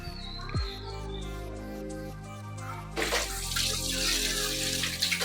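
A kitchen tap runs while dishes are washed: first a steady tonal hum with a faint trickle, then a loud close rush of water gushing into the sink.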